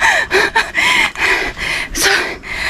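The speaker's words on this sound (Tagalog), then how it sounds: "Yung hingal ko." Heavy, ragged panting from a hiker climbing a steep trail on Needle Hill in Hong Kong, close and loud, with repeated gasping breaths in an uneven rhythm.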